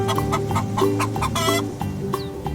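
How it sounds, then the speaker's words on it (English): A chicken clucks in a steady series of short, close calls, loud and alone with no talking over it. "Can you guess what makes this sound? That's right, it's a chicken."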